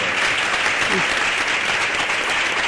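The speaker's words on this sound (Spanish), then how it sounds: "ahora sí que os pido un aplauso" Continuous, dense applause from a debate audience, steady clapping throughout with no pauses.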